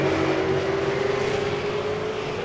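V8 Supercar race cars at Watkins Glen in the iRacing simulator give off a steady, loud engine drone with a sustained whine that climbs slightly in pitch.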